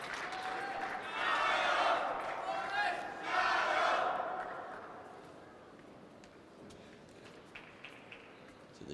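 A table tennis crowd at a men's doubles grand final cheers for the Hong Kong pair in two loud surging waves of shouting and chanting, then fades to a quieter murmur with scattered claps.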